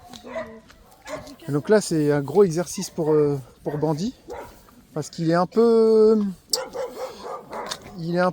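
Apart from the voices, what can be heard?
dogs barking behind a fence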